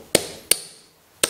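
Three sharp metal hammer strikes on a pin driving a piston wrist pin out of a hot connecting rod, spaced unevenly with short ringing decays, close and fairly loud with no talk.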